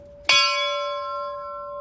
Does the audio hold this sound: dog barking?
no